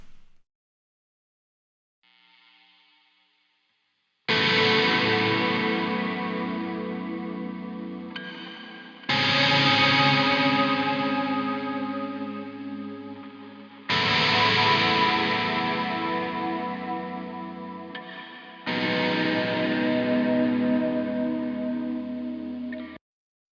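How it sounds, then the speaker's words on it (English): Four long swells of a heavily effected, reverb-soaked ambient electric guitar tone through Toneforge Menace, each blooming in loudly then slowly decaying, separated by brief gaps. "that's the like ambient sort of guitar tone"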